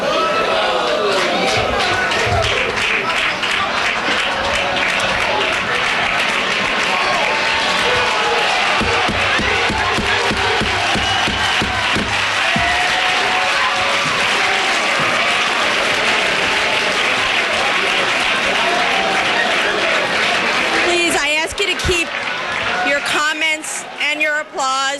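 Sustained roaring applause and cheering from a large audience at a political press event, with whoops and crowd shouting mixed into the clapping throughout, thinning near the end.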